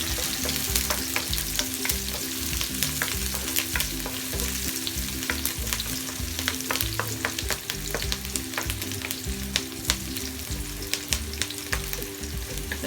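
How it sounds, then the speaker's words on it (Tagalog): Onions fry in a pan with a steady close sizzle and crackle, dotted with sharp pops and the occasional scrape of stirring, under faint background music. "Hintayin lang natin maging light brown ang ating sibuyas o maluto ng bahagya ang ating sibuyas."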